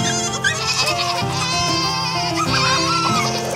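Goat bleating in a children's farm song, a sustained wavering bleat sung or voiced over bright musical accompaniment.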